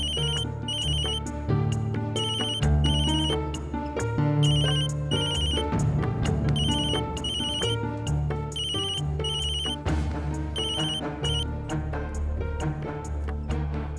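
A phone rings on its own in an empty room after being left behind, a repeating electronic ringtone melody that plays steadily and clearly from start to finish.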